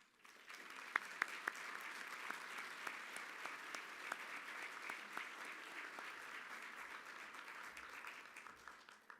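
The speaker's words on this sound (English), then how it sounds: "Please join me in giving a round of applause to Darren" A crowd applauding steadily, dense clapping held at an even level for several seconds, with a few sharper claps standing out near the start.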